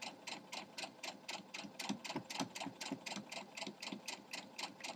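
Sewing machine stitching a scant quarter-inch seam on a sawtooth star quilt block, a fast, even needle clatter repeating steadily up close with no talk.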